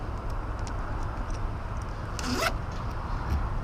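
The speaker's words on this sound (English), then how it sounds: "go ahead and zip another flag to that." A flag is zipped onto a Jeep antenna as part of a Forever Wave interchangeable flag system, one quick close zipper pull rasping over soft background noise.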